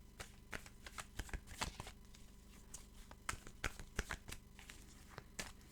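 Tarot cards shuffled by hand, a quiet, close run of crisp riffling flicks and soft patter repeating irregularly with no talking.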